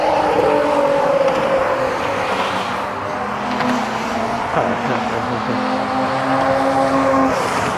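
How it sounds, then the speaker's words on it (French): A carbureted Mazda RX-7 FB rotary engine revs nearby at a Japanese car festival, a loud, fluctuating rasp rising and falling in pitch over steady crowd and engine noise. "Donc là on a une RX7 FB. Et celle-là est à carbu."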